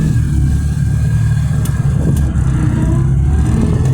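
A 1986 Citroen Acadiane van's small engine pulls steadily under acceleration, a loud, even drone heard from inside the cabin, with no talking.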